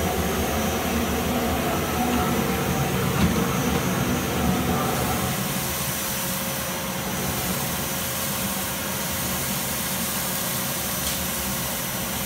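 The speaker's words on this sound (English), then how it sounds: "you can see the dust spinning around in the Cyclone, eventually making its way down into the bucket." A cyclone dust extractor running on a vacuum, sucking up a pile of sawdust, with a loud continuous roaring whoosh that holds steady throughout.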